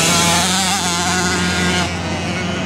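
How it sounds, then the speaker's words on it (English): A KTM motorcycle races at a speedway, its engine a loud, steady, high-pitched whine that holds near-constant pitch throughout, close and unbroken. "A little dude on a KTM tearing it up."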